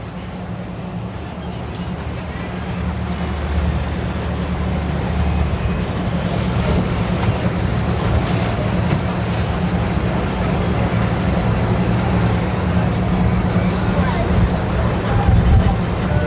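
A motorboat engine droning steadily nearby on a waterway with passing boats and jet skis, its low rumble building and holding with water wash and wind noise throughout.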